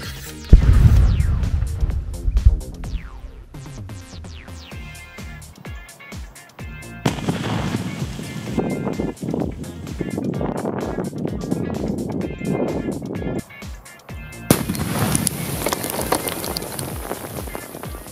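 Liquid explosive charge of about 1.2 kilos blasting a Huisache tree at its roots, sharp booming detonations followed by falling dirt and debris pattering down, loud and outdoors.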